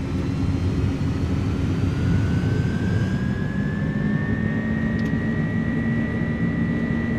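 The iniBuilds A300's jet engines roar steadily at takeoff power in Microsoft Flight Simulator 2024, a loud continuous rumble with a rising, sustained whine over it.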